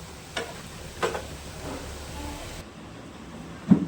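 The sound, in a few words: banana kebabs frying in oil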